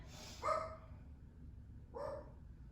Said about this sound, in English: apparently my dog has a lot to say right now